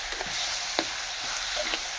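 Pirandai (adamant creeper), curry leaves and a little mint sauté in a hot pan, giving a steady broadband sizzle with a few soft scrapes of stirring, close and alone without talk.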